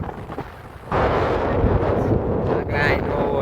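Strong gusty wind buffets the microphone during a motorcycle ride under afternoon sun, a loud continuous roar that surges up after the first second.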